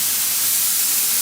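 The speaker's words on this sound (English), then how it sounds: "Can you hear that sear?" Steak seared on a Weber grill heated to about 550 degrees, a dense, loud, continuous hiss with no break and no voices.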